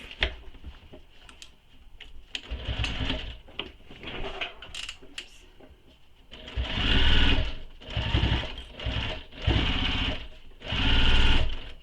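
A sewing machine stitches backpack fabric, running over earlier stitching in short bursts of rapid mechanical whirring broken by pauses, with handling clicks and fabric shuffling between runs.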